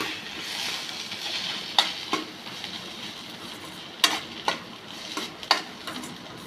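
Egg rice with chilli and soy sauce being stirred in a pan, a steady soft sizzle with several sharp spoon scrapes and clinks against the metal, close and alone without talk.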